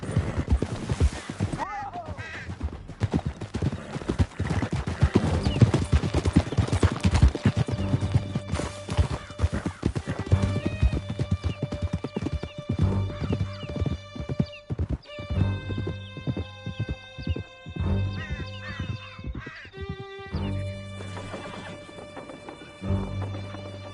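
Galloping horse hooves pound in a fast, steady clip-clop during a canyon chase in Red Dead Redemption 2, close and loud, with a whinny and shouted voices over the ride.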